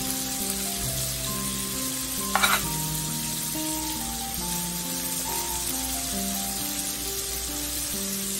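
Steady sizzling and crackling of garlic frying in oil for vegetable fried rice, with a brief scrape of a utensil stirring the pan, while background music plays.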